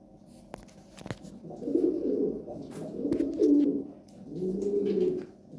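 Imported racing pigeons coo in three soft, rolling phrases at moderate distance, with a few sharp clicks and light rustling between calls and no voices.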